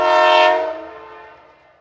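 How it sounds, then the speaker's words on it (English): A red train passes through a valley, sounding a loud sustained horn that swells for half a second and then slowly fades away, with no talk. "The red train is passing through a valley."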